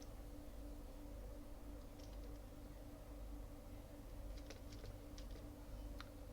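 Python code is typed on a computer keyboard in faint, sparse clusters of soft key clicks over a low steady hum, with no one talking.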